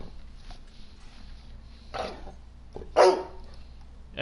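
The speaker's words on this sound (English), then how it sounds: "as you can hear, the dog is not very happy with me right now." A dog barking indoors, two short bursts about a second apart, fairly close and moderately loud over a quiet background.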